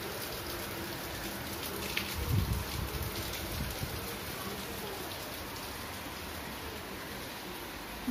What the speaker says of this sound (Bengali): থেকে থেকে জোরসে, ভালো জোরসে বৃষ্টি হচ্ছে।